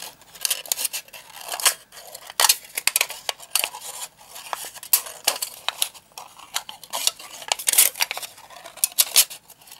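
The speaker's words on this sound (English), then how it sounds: "Now I'm going to cut a spiral." Scissors cut a spiral into a thin aluminum soda can, giving close, crisp snips and metallic crinkling in a steady irregular series, with no voices.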